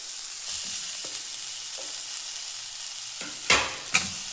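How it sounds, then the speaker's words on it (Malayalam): Chopped tomatoes tipped into softened onions in a hot pan, giving a steady oily sizzle with light stirring, then two sharp bursts of louder crackle near the end. "വാടി വന്ന ഉള്ളിലേക്ക് നമുക്ക് നമ്മൾ ഒന്ന് ജസ്റ്റ് കഷ്ണങ്ങളാക്കി വെച്ച തക്കാളി ഇട്ട് കൊടുക്കാം"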